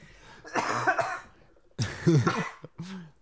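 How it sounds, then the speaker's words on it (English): A person coughs in two short bursts, close up, with a brief pause between them and no talking. "I started coughing."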